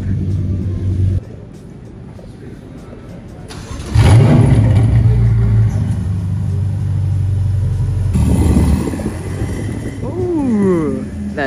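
An orange 720 sports car with aftermarket downpipes fires up and revs loudly with a deep, rumbling exhaust, fairly close, then settles into an idle as people chatter nearby at Monterey Car Week.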